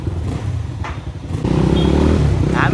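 Motorcycle engine on a ride out of Pokhara toward New Road, a steady motor drone under wind buffeting that grows louder and fuller halfway through, without speech.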